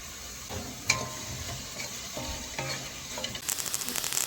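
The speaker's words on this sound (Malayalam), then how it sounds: "സോസേജ് ഫ്രൈ ആയിട്ടുണ്ട്." Sausages frying in a pan, a steady soft sizzle with a few clinks of a utensil against the pan and a brighter burst of crackling near the end, no voices.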